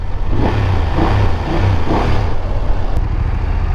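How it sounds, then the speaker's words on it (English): A BMW F850 GS motorcycle engine runs rough close by with a lumpy, uneven rumble, pulsing roughly about once a second, with no talking over it. "So the fifth point would be the engine noise. Like, can you hear?"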